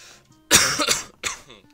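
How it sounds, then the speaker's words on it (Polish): Two short bursts of coughing, close and fairly loud, a harsh double cough followed by a single cough after a brief pause. "Trochę kaszel mnie zmaga."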